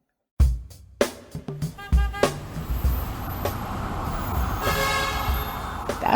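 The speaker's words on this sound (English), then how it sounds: "Imagine yourself commuting to work through the streets of Metro Manila." Street traffic in Metro Manila: several short horn toots sound close by in the first couple of seconds, then a continuous rumble of traffic noise with a brief tonal horn near the end.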